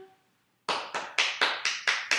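Seven crisp hand claps in a slow, steady rhythm, close and fairly loud, each a sharp broadband burst, following a brief moment of near-silence.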